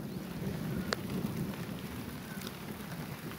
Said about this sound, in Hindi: हल्की हल्की बारिश और ठंडी ठंडी हवाएं चल रही है।